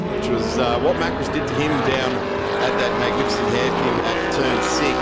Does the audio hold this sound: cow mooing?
no